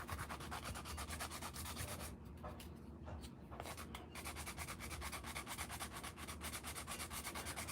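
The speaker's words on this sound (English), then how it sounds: "So sand it. Sand that name off. Sand that hump off." Sanding the printed name off a Dr. Grip pen, a fast, even back-and-forth scratching rub, close and steady, with a short lighter pause in the middle before the strokes resume.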